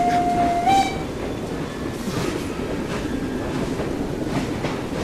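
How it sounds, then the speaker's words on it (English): Moving train in the Assassin's Creed Syndicate video game: a steady rumbling, clattering roll of rail cars continues throughout, with a brief whistle tone at the start and no talk. "I believe you are in charge of driving this here train."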